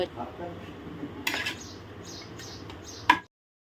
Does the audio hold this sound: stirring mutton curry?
yes